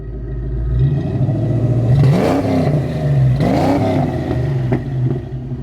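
A 1988 Ford Mustang GT Foxbody running open headers idles with a rough, loud rumble, then is revved sharply twice, the engine note climbing and falling back each time, close by with no talking.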